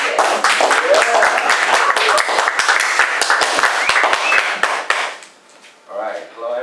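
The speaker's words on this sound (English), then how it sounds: "let's give him a round of applause" Audience applause for a TED Talk speaker, a dense run of claps at steady volume for about five seconds, then fading out as a voice begins speaking near the end.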